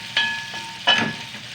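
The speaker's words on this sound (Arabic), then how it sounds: "بحب اقطع الفلفل كده مع الثومه وهي بتتشوح" Chopped peppers and garlic sautéing in a pan, two short sizzling bursts as the food is stirred, close and fairly soft, with no talking.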